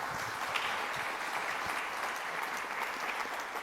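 A conference audience at an economic trade forum gives a steady round of applause, a continuous wash of clapping heard from a moderate distance with no talking.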